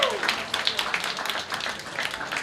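An audience at a robot combat event claps for the winning robot Bad Blood, with a short spell of scattered, moderate applause as a voice talks over it.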